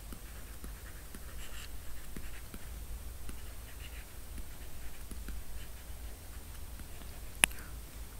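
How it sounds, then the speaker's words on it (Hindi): A teacher writing on a board during a lesson, heard as faint, steady scratching strokes with soft taps. It is quiet and plays alone, with no talk over it. "लिख देता हूँ"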